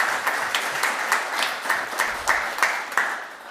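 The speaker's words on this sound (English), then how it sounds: "perhaps we could have a wee round of applause for the children who were with us today" An audience applauds steadily, many hands clapping together in a dense, sustained patter with no voices over it.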